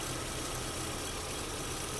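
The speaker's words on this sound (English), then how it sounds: "Now as I wiggle this cable, I can hear that engine changing" Nissan truck engine idling with its pitch shifting under electrical load, a steady close mechanical drone with low rumble and vibration, running alone without talk.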